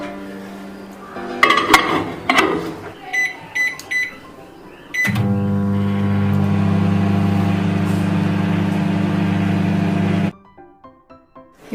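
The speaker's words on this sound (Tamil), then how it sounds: "ஃப்ரெண்ட்ஸ் இப்போ ஒரு 3 மினிட்ஸ் வந்து மைக்ரோவேவ்க்குள்ள வைக்கலாம்." A microwave oven heats a bowl of wheat flour halwa batter, with a few clinks and a door being handled before a loud, steady low hum runs for several seconds and then stops, followed by faint clicks.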